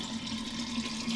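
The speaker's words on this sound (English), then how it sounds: "Pour your filtered beer into a large container." Filtered homemade Sumerian-style barley beer with honey being poured into a large container, a steady soft liquid trickle and splash with a faint hum, continuous and fairly quiet.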